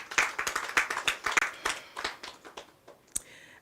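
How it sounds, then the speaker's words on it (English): Applause from the audience at a Grenada Tourism Authority press conference for the flower festival, a modest round of clapping from a small group that thins out and ends with a last few claps. "I think we must give ourselves a round of applause."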